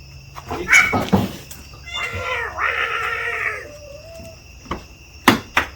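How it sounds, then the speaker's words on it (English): Cats fight outdoors in a yard, giving a drawn-out, wavering caterwaul and yowls in the middle, framed by sharp clatters and knocks nearby. "Cat's fighting."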